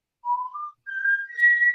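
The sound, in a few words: person whistling tunes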